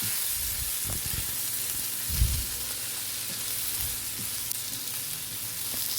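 Brinjal and spices sizzle and fry in hot oil in a pan, a steady close crackle with occasional stirring clatter and no talking.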